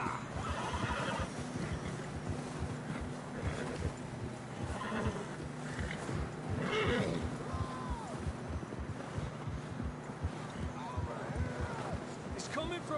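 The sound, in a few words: horses neighing and hooves clip-clopping in video game Red Dead Redemption 2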